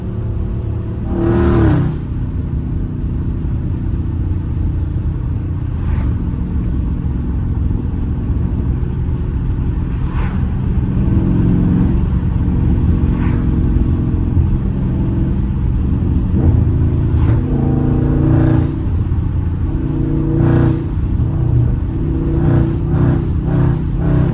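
A powerful Dodge Charger Scat Pack engine roars steadily under hard acceleration, loud and close, with several sharp bursts and surges in the rumble over a long stretch.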